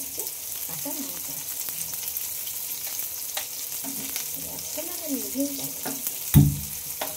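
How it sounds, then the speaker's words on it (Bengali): Chopped onions and green chilies frying in oil for a fish paturi masala, a steady crackling sizzle with occasional stirring scrapes, while someone speaks briefly over it and a louder clatter lands near the end. "পেঁয়াজগুলোকে এখন একটু ভালোভাবে ভেজে নিতে হবে।"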